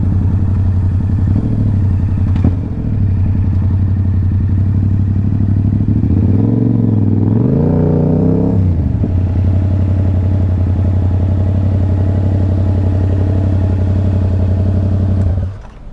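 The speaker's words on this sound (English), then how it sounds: "Bike sounds so good, dude." A Yamaha R7 motorcycle engine runs steadily while riding, a loud close drone that swells into a brief rev around the middle before settling back to a constant cruise, with no talking.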